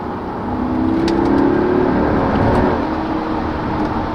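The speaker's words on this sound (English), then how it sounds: "So it also does rev matching downshift." A 2013 Mercedes-Benz S63 AMG (W221) engine blips its revs upward and settles during a rev-matched downshift, heard from inside the cabin as a steady, moderately loud drone.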